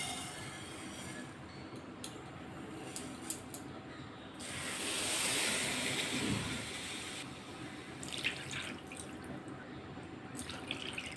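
Three cups of water poured into a pot for sugar syrup, a soft rushing splash that swells for about three seconds in the middle, set against quiet kitchen clatter before and after.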